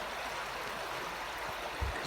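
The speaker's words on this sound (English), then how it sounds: "gonna get some water here in the creek" Mountain creek water flowing steadily with a constant broadband rush, close by and continuous throughout, with a faint low thump near the end.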